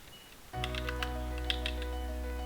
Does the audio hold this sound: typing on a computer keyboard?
yes